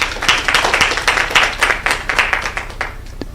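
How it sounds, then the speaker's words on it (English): An audience at a panel session of a conference on digital health in Kenya gives a short round of applause, a dense burst of many hands clapping that stays fairly loud and even throughout. "Please let's give them another round of applause."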